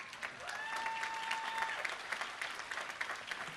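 Audience applause at a 2015 Fitchburg State University undergraduate commencement for the university's vice presidents, a steady roomful of clapping with a brief whistle, moderately distant.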